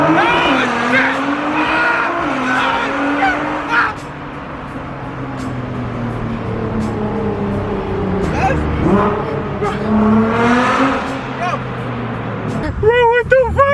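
An 800hp Nissan R35 GT-R accelerates hard, its engine note rising and shifting in pitch through gear changes, heard from inside the car while passengers shout and exclaim over it.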